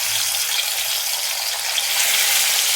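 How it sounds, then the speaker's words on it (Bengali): Fish slid gently into hot oil in a wok fry with a steady, dense sizzle that stays even and close throughout, with no voices over it. "তেলটা গরম হওয়ার পর আস্তে আস্তে মাছগুলো ছেড়ে দিচ্ছি"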